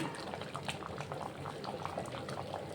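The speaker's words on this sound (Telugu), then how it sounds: "అన్నం అయితే మంచిగా ఉడుకుతుంది" Bagara rice simmers in a pot, a close steady bubbling boil with soft gurgles and pops throughout.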